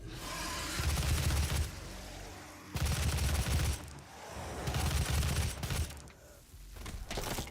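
A heavy assault rifle fires in the shooter game DOOM, with about four loud, rapid automatic bursts, each roughly a second long, separated by brief pauses.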